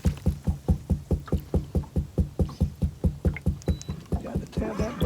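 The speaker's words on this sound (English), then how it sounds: "Got to tap that boat and get them to come." Steady, evenly spaced knocks of a hand tapping on a fishing boat's hull to draw perch, about three per second, close and fairly loud, with light water and background noise near the end.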